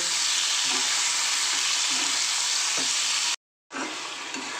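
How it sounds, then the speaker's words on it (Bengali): Prawns fry lightly in hot mustard oil with a loud, steady sizzle and occasional stirring clinks, broken by a brief moment of silence near the end. "ওই জন্য খুব হালকাই ভেজে নেব"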